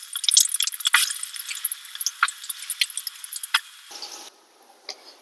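Pieces of onion drop into hot oil with a crackling sizzle full of sharp pops and spits, loud and close at first, then cutting to a much quieter bubbling hiss.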